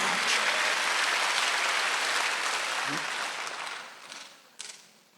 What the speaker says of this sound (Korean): 박수 한번 더 해서